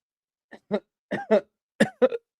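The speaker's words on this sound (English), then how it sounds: "Oh, I'm watching how I cough." A series of short, close coughs in quick bursts, about five or six, with brief pauses between them.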